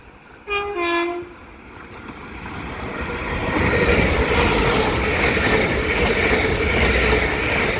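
An Avanti West Coast train at Shotton on the North Wales Coast Line sounds a loud two-tone horn, then its rumble and rushing noise swell as it passes close by.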